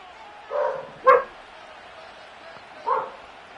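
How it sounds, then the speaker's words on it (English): Dogs bark in a video game's background: three separate loud bursts, with one sharper yelp in the middle. "The dogs being incredibly annoying."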